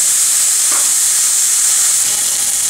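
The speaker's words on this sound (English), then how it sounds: "let's go ahead and throw our steak on" A rib-eye steak sizzles loudly in a hot pan, a steady, bright hiss and crackle of frying fat that holds unbroken from start to finish, close up.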